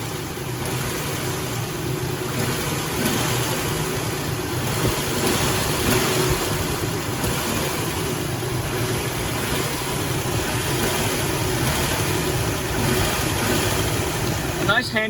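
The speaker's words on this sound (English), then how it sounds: "if you listen carefully, you can hear a lifter tick" A 2003 Nissan Frontier 5-speed engine idles steadily with a low rumble throughout, its faint lifter tick buried in the continuous drone.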